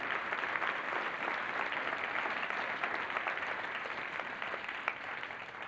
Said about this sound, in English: give a round of applause to the amazing technical staff producing this event